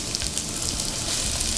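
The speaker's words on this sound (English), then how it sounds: "You want that little sizzle." Diced onion and poblano pepper sizzle steadily in olive oil in a hot pan, a dense, even crackle and hiss heard close up with no talking.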